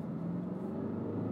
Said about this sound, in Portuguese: Agora vou puxar aqui uma segunda. Um bocado de barulho.